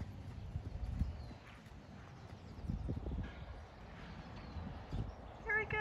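Horse hoofbeats on an arena surface as a mare moves up into a canter, rhythmic clip-clop thuds at moderate distance under a riding instructor's talk.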